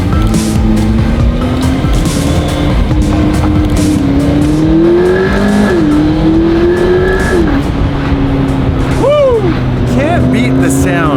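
A McLaren P1 hypercar pulls away, its engine droning steadily and rising and falling in pitch with a sharp revving swoop near the end, heard from inside and loud throughout, with a voice speaking over it.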